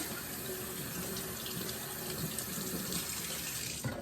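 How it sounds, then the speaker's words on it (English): Tap water runs steadily into a sink while four pumpkins are washed, a continuous close hiss of flowing water with a brief clunk near the end. "the first thing I'm going to do is I'm going to wash the pumpkins"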